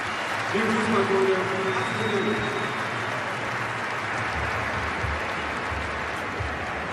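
Stadium crowd at an international football friendly between Germany and Italy breaking into sustained applause after a moment of silence, a broad distant wash of clapping that holds evenly, with a commentator's voice briefly over it.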